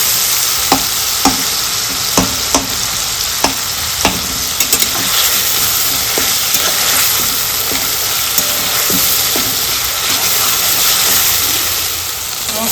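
Spice masala with boiled tomato frying loudly in a pan for a fish and vegetable curry, with a steady sizzle broken by repeated sharp clicks of a spoon stirring against the pan.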